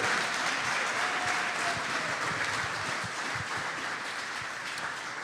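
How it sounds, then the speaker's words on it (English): A studio audience applauds for Green Bay Packers defensive tackle Kenny Clark, with sustained, even clapping that continues for the full stretch and fades only slightly toward the end. "how about a round of applause for Kenny Clark tonight"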